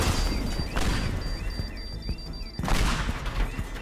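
Bombs detonate in the Teardown video game while a tower is blown apart, loud booming blasts in two heavy clusters with crumbling debris rattling between them.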